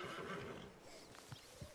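A horse whinnies in the Red Dead Redemption 2 video game, a short, quiet neigh rising over a steady background bed.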